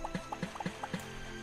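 Swamp water being scooped up in the game Starbound: a few short wet gulping, squishing liquid sounds in an irregular rhythm, fairly quiet and close, with no talking.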